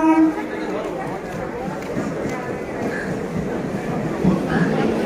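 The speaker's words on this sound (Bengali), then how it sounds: "দেখো ট্রেন ঢুকছে।" A Katwa local train pulls into a suburban station platform, a steady rumbling rail roar filling the whole scene, with a voice talking briefly at the start over the ongoing train noise.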